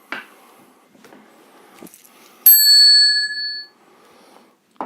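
A single meditation bell strikes clearly and rings on with a sustained, shimmering tone before fading, with quiet rustling before and after.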